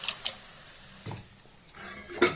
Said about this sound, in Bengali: আমি আবার জল দিয়ে দিই